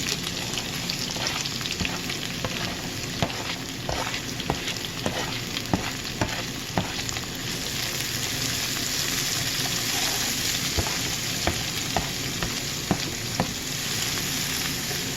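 Onions going into a hot pan with garlic, a loud continuous sizzle with frequent scraping and tapping from stirring throughout.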